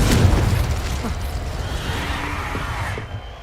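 Hogwarts Legacy's Confringo spell detonates as a heavy boom right at the start, then its rumbling, crackling tail fades away over a few seconds.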